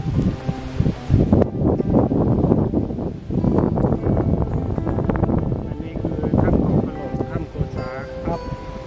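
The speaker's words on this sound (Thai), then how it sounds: "อากาศเย็นดีลมแรง" Strong wind buffets the microphone at a seaside viewpoint, a loud continuous roar with gusty swells and rustling throughout.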